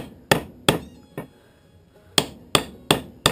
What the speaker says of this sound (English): I'm going to take a chance and just go with the steel hammer a little bit here.